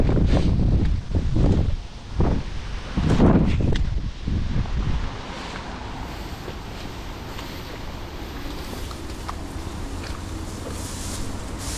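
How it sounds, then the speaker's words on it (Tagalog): Strong, cold wind blows outdoors, buffeting the microphone in heavy rumbling gusts for the first few seconds before it settles into a steady rushing hiss. No one speaks. "Lamig. Grabing hangin."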